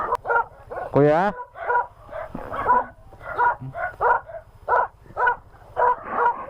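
Several dogs bark repeatedly in quick yapping bursts nearby, with a brief whine and a person speaking briefly among the barks.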